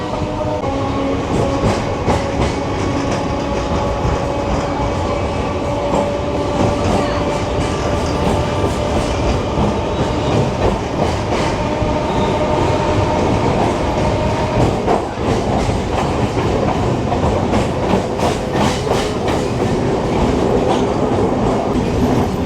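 A Kolkata circular rail local train runs steadily past Majerhat toward Khidirpur, its wheels keeping a continuous loud rumble and rhythmic clatter heard from inside the carriage, with faint murmurs of passengers.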